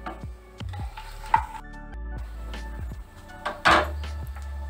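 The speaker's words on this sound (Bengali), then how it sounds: "তেজপাতা, দারচিনি, একটা শুকনো লঙ্কা, বড় এলাচ, ছোট এলাচ, গোলমরিচ, লবঙ্গ, এটাও দিয়ে দিচ্ছি।" Bay leaf, cinnamon, dried red chilli, cardamom, peppercorns and cloves drop into hot refined oil, giving soft sizzling with several clinks and knocks of spices and utensils against the pan, close and clear.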